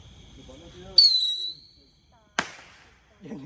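A firecracker bursts with a sharp loud bang and a trailing hiss, then a second crack follows, set off during Raya festivities with people talking before and after.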